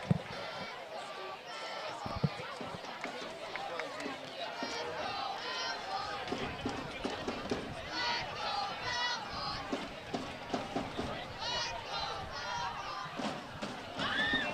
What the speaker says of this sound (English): Belmont fans are getting loud right now, cheering on their team.